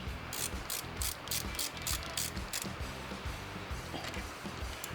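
A small ratchet clicks rapidly and close up while bolts are snugged by hand on a Dodge Challenger differential brace, in a fairly quiet run of short repeated strokes.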